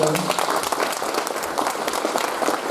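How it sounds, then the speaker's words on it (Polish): Audience applause breaks out at a Kukiz'15 movement gathering, a dense continuous wash of clapping from a crowd with a voice faintly audible at the start. "naprawdę wielkie brawa i wszystkiego dobrego"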